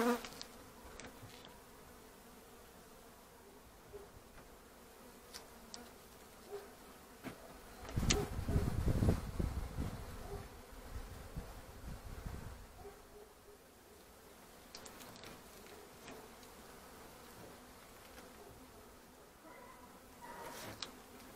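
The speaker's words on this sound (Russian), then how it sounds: "Пчелка с крыльями." Bees buzzing at a beehive during a hive inspection, a steady low insect drone with a louder burst of close buzzing and rustling in the middle, otherwise faint and continuous.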